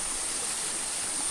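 Stream water flows near a cave in the Satpuda forest, a steady, even rush of water with no voices over it.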